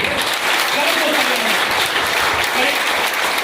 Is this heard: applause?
yes